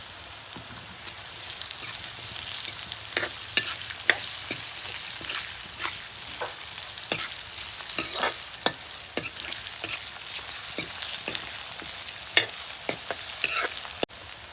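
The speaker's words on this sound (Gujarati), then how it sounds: "હવે નાખી દઈએ આપણે એમાં હળદર. હવે નાખી દઈએ આપણે બટેકા." Potatoes with turmeric fry in a pan, a steady close sizzle with scattered crackles and occasional stirring scrapes, no talk.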